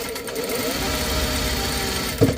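Sewing machine stitching a dart in fabric, a steady mechanical whir running continuously at moderate level, ending with a short louder knock.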